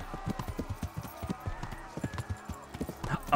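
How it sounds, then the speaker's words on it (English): Horse hooves gallop in a steady clip-clop rhythm through Kingdom Come: Deliverance, a medieval game, with a brief faint vocal sound near the end and a low game ambience underneath. "Oh, I can gallop even faster."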